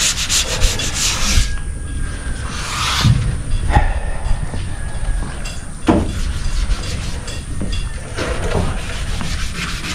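Close, steady sanding of epoxy primer over 320-grit on a classic Impala lowrider's body panels, a continuous scratchy rubbing with rhythmic strokes and a few sharper knocks, heard alone without talk.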